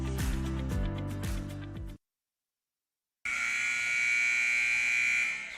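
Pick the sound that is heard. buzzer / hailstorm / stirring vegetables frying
buzzer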